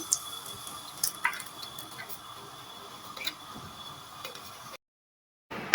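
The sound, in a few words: ground yogurt and onion paste sizzling in a hot kadhai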